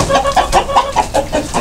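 A chicken clucks in a quick rhythmic series of close, loud clucks, about eight short bursts in under two seconds, with no voices over it.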